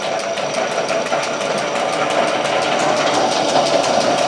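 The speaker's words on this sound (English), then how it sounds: "If you pull the switch, the belt goes." A modified drill press hums steadily as its motor drives a belt and pulleys, with a fast regular ticking pulse riding over the continuous whir.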